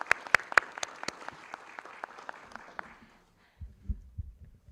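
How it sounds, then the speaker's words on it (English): At a school committee meeting, a small room gives a student ambassador a brief round of scattered applause. Sharp, sparse claps come at the start and thin out within about three seconds, leaving quiet low rustling. "She deserves a round of applause."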